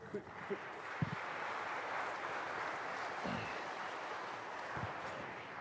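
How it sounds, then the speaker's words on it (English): Steady applause from an audience at a televised political interview, a broad even wash of clapping lasting several seconds, with a few louder thumps close by. "even the cameraman's applauding"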